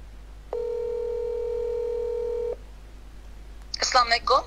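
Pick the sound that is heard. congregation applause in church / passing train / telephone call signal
telephone call signal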